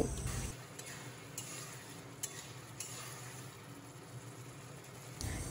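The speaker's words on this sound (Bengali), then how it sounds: "আর এখন আমি চিনির সাথে তরকারিটা একটু ভালো করে মিশিয়ে নেব।" Vegetable curry with sugar being stirred in a pan: a steady soft sizzle of frying runs throughout, with occasional light clicks and scrapes of a spoon against the pan, close and fairly quiet, no talking.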